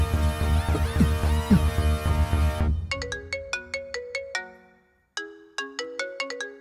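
A phone ringtone plays, first as a dense loud melody, then as repeating bright chime notes in bursts, with a short gap midway.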